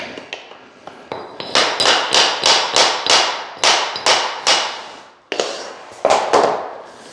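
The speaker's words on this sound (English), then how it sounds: "we're just gonna tap on the end down here and it'll slide underneath the baseboard there" An LVP flooring plank is tapped at its end to slide it under door trim: a rhythmic run of about a dozen sharp, close taps with a brief pause before a few final knocks.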